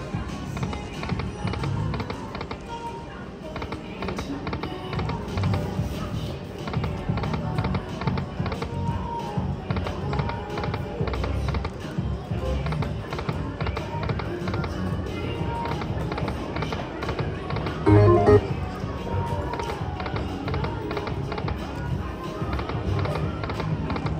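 Buffalo Chief slot machine reels spinning in a casino, a busy stretch of rapid mechanical clicking and ticking with a brief louder burst partway through, over background chatter and machine noise.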